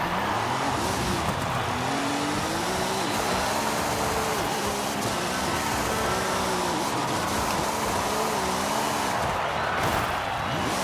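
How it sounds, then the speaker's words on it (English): A car drifts on the handbrake in Forza Horizon 5, its engine droning loud and constant with wavering pitch under steady tyre and road roar, close and alone. "Fly back onto the track and rip the handbrake."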